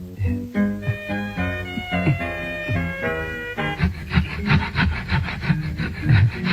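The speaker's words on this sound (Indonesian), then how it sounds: "Ini gergaji." A hand saw cuts through wood with steady back-and-forth strokes, loud and close, rasping in an even rhythm against a busy background of other sound.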